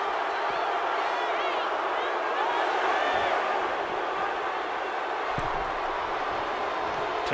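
A wrestling arena crowd in WWE 2K25 cheers and roars in a steady, continuous wash, with a commentator talking over it throughout.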